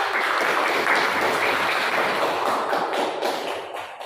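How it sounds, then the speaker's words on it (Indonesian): Steady applause from a group fills the room for several seconds, dense clapping at an even level throughout. "kasih tepuk tangan dulu untuk kelompok satu"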